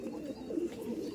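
Madras mechia pigeons kept at a house, cooing softly: a low, murmuring coo that rises and falls in short pulses, faint and close, with no talk.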